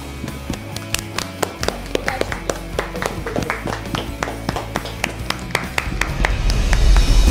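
Studio audience at a Voice of Armenia blind audition clapping in steady rhythmic unison as a singer walks onto the stage, a loud, even beat of hand claps that grows fuller toward the end.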